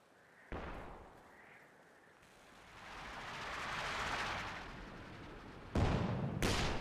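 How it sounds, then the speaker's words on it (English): Artillery barrage in Company of Heroes 2, an online battle between German OKW and British forces: a sharp launch thump, then a long rumbling roar of distant shelling that swells and fades before heavy impacts crash in near the end. "he's trying for a blind barrage with the commandos"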